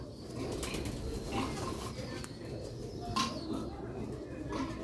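Thirty-year-old Ferozpuri pigeons coo in low, soft murmurs with occasional wing flaps, close by and steady over a continuous bed of background noise.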